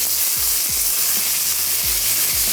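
Ingredients for aloo bun kabab are pan-fried with a loud, constant sizzle. A few soft low knocks come from the pan or spoon, and there is no speech.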